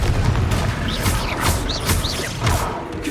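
Confringo explosion spell cast in Hogwarts Legacy, loud close booms and whooshing bursts with rapid crackling impacts in quick succession over game combat noise, no talk.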